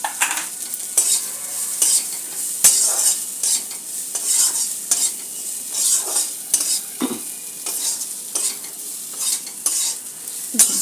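Potatoes stirred as they fry in a pan alongside pumpkin seeds: continuous bright sizzling with rhythmic scraping and clinking utensil strokes every second or so, close up and with no voices.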